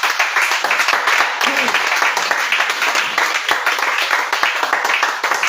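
A church congregation claps and applauds the Lord in sustained, dense applause that runs steadily from start to finish, close and loud, with faint voices mixed underneath.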